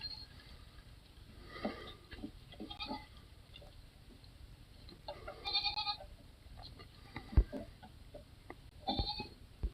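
A herd of goats bleats at a distance, a few faint scattered calls rising over a low, steady background hiss, with no voices.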